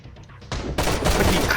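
Gunfire in the survival game Sunkenland, a quiet lead-in giving way to a loud, dense burst of rapid shots that rattles on continuously at close range.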